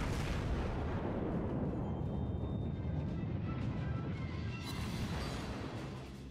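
Battleship gunfire in World of Warships from the Wyoming, heavy booming salvos rolling and rumbling across the whole stretch, loud and dense, with a fresh blast near the end.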